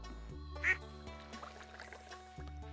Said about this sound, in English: I heard a duck.